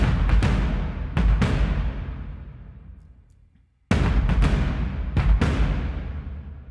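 A punchy drum loop from Heavyocity's Damage 2 sample library, with booming kicks and sharp crashes that ring out and decay, a brief pause, then the pattern restarts.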